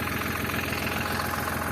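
Farm tractor engine idling, a steady close rumble with a rough, even throb throughout a brief moment.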